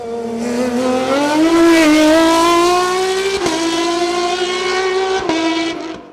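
An Osella PA20S race car competing in the CN3 class at full throttle, its engine note loud and close, rising steadily through the gears with brief sharp drops at each shift before the sound fades away at the end.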